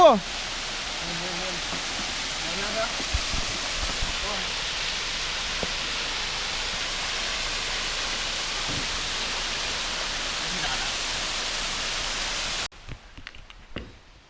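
A waterfall runs through a house at Mae Ta Man in Chiang Dao, Thailand, giving a steady, dense rush of water that stays even throughout before cutting off abruptly near the end. Faint voices sit underneath.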